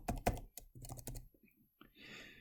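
Typing code on a computer keyboard, quick clusters of close, crisp key clicks with short gaps, followed by a faint soft hiss.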